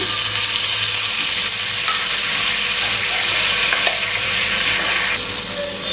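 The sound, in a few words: butter sizzling on hot griddle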